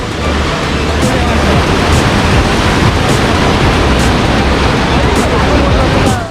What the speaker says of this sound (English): you can see river which is completely flooded, and this is a barrier between that.